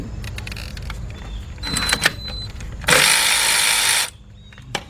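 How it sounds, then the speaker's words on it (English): Cordless impact wrench with a 10mm shallow socket spinning off a nut during a Chevy Equinox engine rebuild: a short whir, then a loud, dense hammering burst lasting about a second, close up with no talk. "I got a 10mm shallow with my cordless impact. And let's get that."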